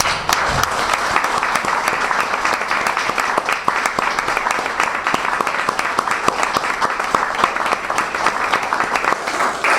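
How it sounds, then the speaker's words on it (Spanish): A crowd at a book presentation applauds in tribute to murdered journalists, a loud, dense, continuous round of clapping that keeps an even intensity for about ten seconds with no voices over it. "para ellos les pido un minuto de aplausos"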